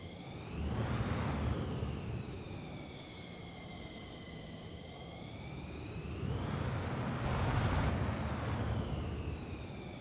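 Jet engine of a DC Designs F-15 in Microsoft Flight Simulator, the older sound version: a steady broad roar with rising and falling whine tones, swelling louder twice, continuous without talk.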